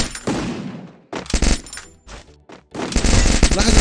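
Rapid automatic gunfire from a weapon in the Free Fire mobile game, loud bursts broken by short gaps, with a longer sustained burst at the end.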